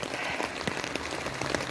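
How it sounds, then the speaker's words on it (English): Heavy rain pours steadily onto a surface under a covered outdoor area, a dense continuous patter with sharper drops popping through, loud and close with no voices. "So we're getting a huge amount of rain."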